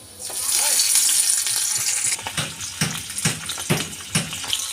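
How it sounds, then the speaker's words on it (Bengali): Hilsa fish fry in hot oil in a wok. A strong, even hiss runs for about two seconds, then breaks into irregular crackles and spattering bursts that stay close and fairly loud. "দেখো আমি কড়াই বসিয়ে দিয়েছি তেল গরম হয়ে গেছে এবং মাছগুলো আমি হালকা হালকা করে ভেজে নেবো"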